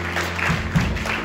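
Church congregation applauding during a live service in Saint-Laurent-du-Maroni, a steady broadband wash of clapping with low rumble from the room and crowd underneath.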